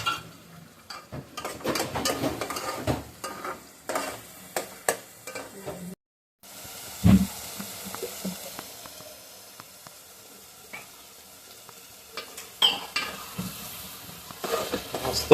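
Mutton masala frying in a pan in a Pune-style home kitchen, stirred with bursts of sizzling and scraping clatter, a brief pause, then a sharp knock and quieter continued frying and stirring, close and without talk.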